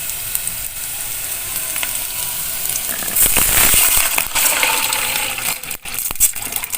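Water poured into a pan of sizzling fried spices for goat soup, starting as a steady close crackle of frying, then swelling into a loud hissing gush as the water hits the hot oil before settling back down.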